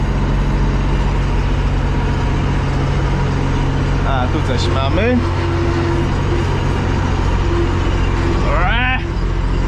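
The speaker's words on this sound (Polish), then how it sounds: "te obroty tym ciągnikiem" A tractor engine drones low and steady throughout while subsoiling a field, a constant close rumble with brief rising revs, as someone speaks over it.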